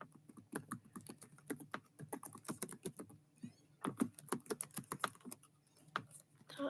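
Fingers type on a computer keyboard in quick, close clicks and clacks in uneven bursts with short pauses, and no voices are heard.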